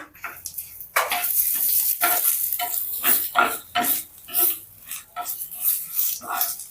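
Cumin, mustard seeds, dried red chillies and curry leaves crackle in hot oil for a tomato pachadi tempering, a loud bursting sizzle with sharp popping spurts and stirring throughout.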